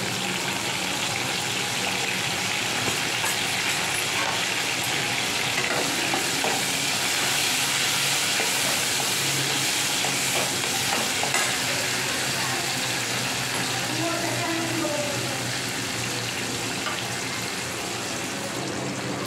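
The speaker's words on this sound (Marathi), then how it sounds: "आता याच्यात घालणार आहे मी 1 टोमॅटो कापून बारीक." Finely chopped tomato fries in hot oil for stuffed brinjal, a constant loud close sizzle with occasional stirring scrapes running the whole time and no talking.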